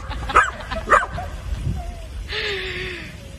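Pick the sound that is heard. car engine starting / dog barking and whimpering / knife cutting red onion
dog barking and whimpering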